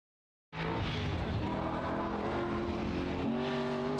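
A race car on a mountain hill climb course powering through a technical section, its engine bursting in loud and holding a strained, roaring note with a gear-like pitch shift near the end, close and continuous.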